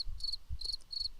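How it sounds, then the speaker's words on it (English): Crickets chirp in three short, evenly spaced bursts of high trills, close and steady over faint low background noise. "I'm gonna kill those crickets."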